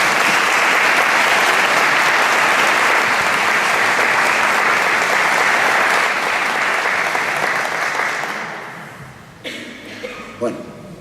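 Loud, sustained applause from a seated audience at a lecture on jihadist terrorism fills most of the stretch and then fades out. Faint handling noise and a few soft sounds follow at the end.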